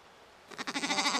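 A cartoon goat gives a short bleat in a garden in an animated children's series: quiet hiss first, then a sudden wavering, nasal bleat that rises and holds to the end.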